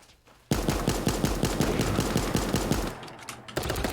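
AK rifle fire in the battle royale game Super Animal Royale, a rapid automatic burst of evenly spaced shots, loud and close, lasting about three seconds with a short break before more firing.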